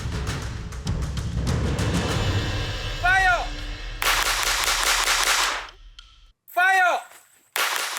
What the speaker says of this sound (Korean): M1900에 총탄 7발이 든 탄창을 끼우고 사격 신호가 떨어지면 쏴야 한다